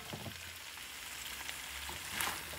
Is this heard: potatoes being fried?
yes